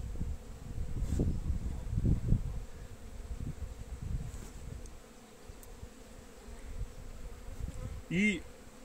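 Honey bees buzz steadily around a frame of freshly drawn comb in a young hive, a dense close hum with occasional louder passes near the microphone.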